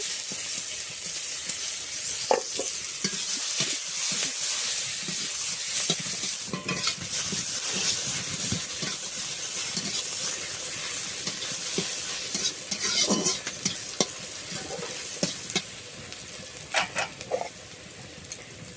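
Green chili, two bay leaves and chopped onion fry in a generous pool of hot oil for a Bengali snakehead fish curry, giving a dense, continuous sizzle with occasional stirring scrapes and pops, close and loud with no talk.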